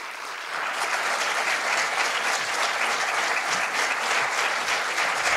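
Sustained, dense audience applause in a cinema hall welcoming a jazz piano trio to the stage, steady and full from just after the start to the end.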